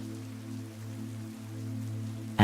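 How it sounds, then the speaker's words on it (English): Soft rain falling steadily in a garden, a gentle continuous patter over a low steady hum, ending with a brief loud knock. "the rain is nice and soft, just the way Sally likes it"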